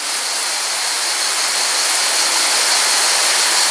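Çaylak waterfall pours with a loud, steady roar of rushing water, a broad unbroken hiss that swells slightly toward the end, close by and with no voices.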